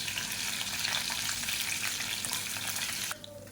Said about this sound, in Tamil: பச்சை மிளகாய் எண்ணெயில் நல்லா வதங்கட்டும்.